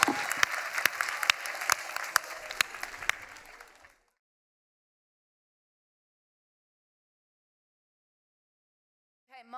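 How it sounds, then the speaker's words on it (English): An audience at a book awards ceremony claps in a full, dense round of applause with a few sharper individual claps standing out, then it stops abruptly into silence. "a big round of applause"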